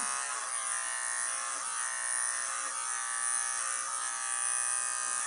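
An electric hair clipper buzzes steadily and loudly close by, cutting hair during a self-haircut, with slight changes in tone as the blade moves through the hair.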